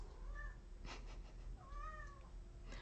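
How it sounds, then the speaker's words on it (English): A cat meows for attention indoors, two drawn-out meows with rising and falling pitch, separated by a short pause, heard alone over a steady low background hum. "My cat wants attention, despite the fact that he has both food and water."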